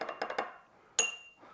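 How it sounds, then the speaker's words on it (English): A spoon rattles quickly against the inside of an old fashioned glass holding a cream soda cocktail, giving a few close clinks, then one brighter ringing tap that fades. "Now I just give this a stir"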